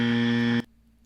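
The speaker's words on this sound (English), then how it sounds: "it's a buzzer." A loud, harsh electronic buzzer drones steadily for about half a second, then cuts off abruptly, leaving only a faint low hum behind.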